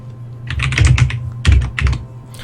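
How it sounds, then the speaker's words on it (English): Loud, close keystrokes on a computer keyboard during an online tabletop game session, two clustered bursts of clacking with a short gap between them. "whoever's typing right now is very loud"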